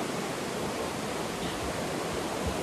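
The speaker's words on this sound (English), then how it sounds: "This is our last stop at Roaring Brook Stream, as you can see in the background." Roaring Brook stream in the Maine wilderness rushes steadily, a dense, continuous hiss of flowing water close by with no pauses and no voices.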